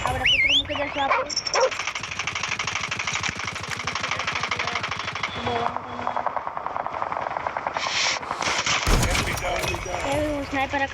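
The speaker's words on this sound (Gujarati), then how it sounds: "આપણે કૂતરું મૂકી દઈશું" A dog barks repeatedly in the Call of Duty video game, amid rapid gunfire and other combat sounds, with someone talking over the action.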